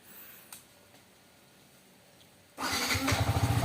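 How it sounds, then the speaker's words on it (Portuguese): A Yamaha R15 motorcycle is started after a few quiet seconds with faint clicks. The engine catches suddenly and settles into a loud, close, pulsing idle. "Então vamos ligar a moto aqui."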